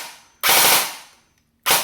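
A CYMA CM.009C M16 airsoft rifle on a 7.4 V battery fires full auto in two close, loud bursts, a rapid buzzing rattle of shots, the second burst cut short, with no talking.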